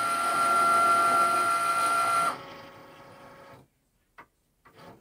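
A Cricut cutting machine runs on a loaded mat with a loud, steady mechanical whir and buzz that stops abruptly, followed by a few short clicks and motor bursts.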